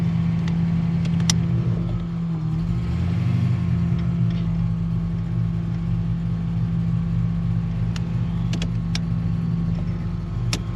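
A Chevrolet El Camino with a swapped column shifter drives with a steady, close engine rumble that swells and eases as it moves through gears, with no talk over it.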